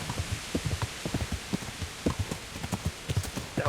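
Horse hooves clip-clopping in a steady, uneven gait in the medieval game Kingdom Come: Deliverance, close and distinct, with soft low thuds repeating throughout and no talking.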